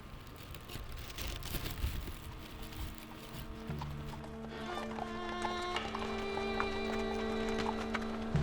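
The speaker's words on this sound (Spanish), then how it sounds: "porque en esta ahora lo que hacemos es incluir caballos" Horses trot on an outdoor film set for a Spanish production, their hoof clip-clop steady and mid-distance over a broad background rumble, with a low humming tone joining partway through.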